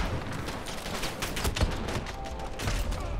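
Gunfire in the video game Modern Warfare, including Kar98k rifle shots, a continuous crackle of shots and impacts with a few sharper reports near the middle, busy and moderately loud.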